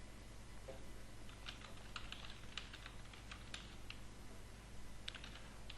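Scattered keystrokes on a computer keyboard tap out in short irregular bursts over a low steady hum, faint and close, with no voices.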